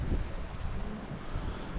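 Strong wind of around 20 knots buffets a sailboat at sea on autopilot after a storm, a steady, close rumbling roar with gusty swells across the whole stretch and no talking.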